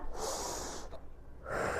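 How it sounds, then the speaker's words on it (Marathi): During a gentle exercise routine for back, neck and knee pain, a person takes a close, audible breath in through the nose, a breathy sniff-like inhale that briefly pauses and then resumes. "इथे आपण श्वास घेतला"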